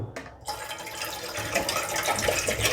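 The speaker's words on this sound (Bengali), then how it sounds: "আরেকটু জল আমি দেব" Water poured into a pan of sugar syrup for a Bengali bodey sweet, a continuous splashing pour that starts after a brief pause and holds steady and fairly loud to the end.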